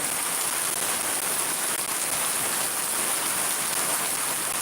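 Heavy rain pours steadily over open ground and waterlogged fields in Shariatpur, a dense, unbroken hiss that stays loud and even throughout with no voices.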